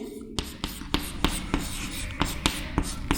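Chalk or marker writing an equation on a board, a steady run of short scratchy strokes with sharp taps at each new stroke, close and fairly loud.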